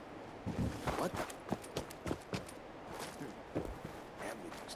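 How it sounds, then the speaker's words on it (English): Footsteps of a character moving through Fallout 4, a modded video game: a steady run of fairly loud, crunchy, rhythmic steps over dense game ambience, with no talking. "Everything's starting to sound like footsteps."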